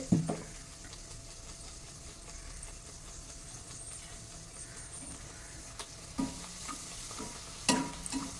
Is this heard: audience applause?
no